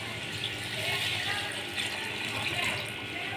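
Four litres of water pour steadily into a cooking pot of browned chicken for a shorter-style curry, a continuous splashing, gurgling rush heard up close with no talking over it.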